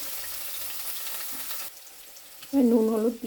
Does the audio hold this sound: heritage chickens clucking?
no